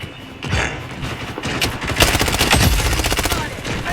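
In the game Blood Strike, loud, close automatic gunfire rattles in rapid bursts, with a dense run of shots building toward the end and heavy thumps beneath, and a voice speaks briefly over it.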